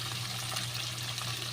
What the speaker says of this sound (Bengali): উচ্ছেগুলোকে আগে ভালো করে ভেজে নিতে হবে